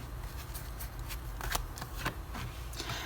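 Tarot and oracle cards are handled, shuffled and laid out one by one during a reading, giving soft riffling flicks and several sharp card snaps close up, with no talking.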